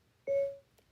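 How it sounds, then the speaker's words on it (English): A short electronic beep from a phone as dictation starts after the side button is held, a single clean tone lasting about a third of a second, fairly close and alone, followed by a faint blip. "I can press and hold the side button, and I can wait for the beep"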